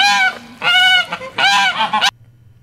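Geese being driven along by a woman herding them through a village give repeated loud, close honks in several bursts before falling quiet.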